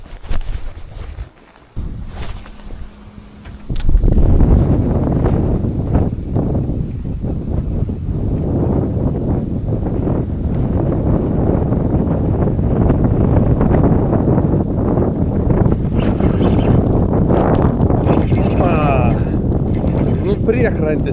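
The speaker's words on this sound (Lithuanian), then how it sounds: "Vėjas pučia" Wind blows along a lakeshore while fishing, a steady loud rushing roar that buffets the microphone for most of the stretch after a quieter, gustier start.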